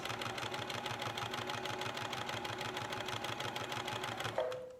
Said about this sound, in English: Good sewing machine.